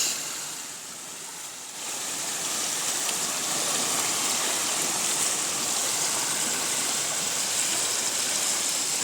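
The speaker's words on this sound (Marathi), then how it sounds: "तेव्हा दोन धबधबे वरती तिकडे विनीत ते बघा" Steady rushing water from two rain-fed waterfalls, running after the season's first heavy rain, roars continuously nearby, a little quieter for the first couple of seconds and then loud and even.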